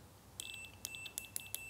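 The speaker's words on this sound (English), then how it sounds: "we get beep, so that's connectivity." A digital multimeter in continuity mode beeps while its probes touch a VW Golf mk2 GTI rear window demister switch: a series of short, high electronic beeps in quick irregular succession, close and clear.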